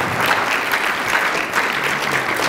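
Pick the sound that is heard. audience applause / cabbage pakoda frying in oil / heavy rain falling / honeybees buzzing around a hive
audience applause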